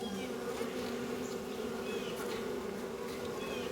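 Honeybees at a hive with a solid bottom board, where wax moth cocoons have been found, give a dense, steady buzzing drone, close and continuous, with individual bees passing nearby.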